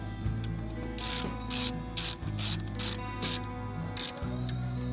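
Ratchet cranking a bolt tight on the brake assembly of a Chevy Colorado ZR2, heard as several short bursts of quick clicking strokes, close and fairly loud, over a steady low shop hum with no talk.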